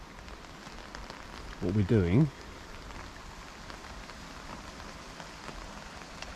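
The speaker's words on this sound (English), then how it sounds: "it is rather cold today and raining" Steady rain hisses across the whole clip on a cold day by a pond, with a voice briefly speaking near the start.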